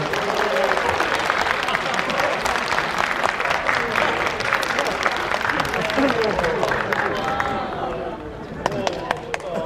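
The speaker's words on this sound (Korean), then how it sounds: "여러분 박수 한번 부탁드리겠습니다" A large crowd applauds at a film stage greeting event, dense rapid clapping that fills the room loudly for several seconds, with a few cheers and voices mixed in before it thins toward the end.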